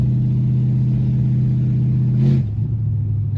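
An LS-swapped Chevrolet Malibu with 3.73 gears pulls hard under acceleration, a deep loud V8 drone holding steady, then a brief shift break near the end as the pitch drops into the next gear.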